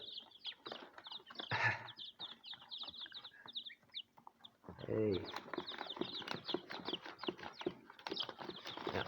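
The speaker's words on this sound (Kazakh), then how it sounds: "Өте керемет балапандар." Many small chicks chirp continuously in high, rapid peeps, close by, while a person talks over them.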